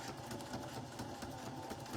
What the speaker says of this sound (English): Stacy, I'm trying to sew here.